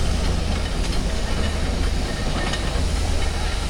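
A big Fowler steam road locomotive runs in the arena at a steam rally, giving a steady loud chuffing hiss and low rumble that continue without a break, with faint distant voices in the background.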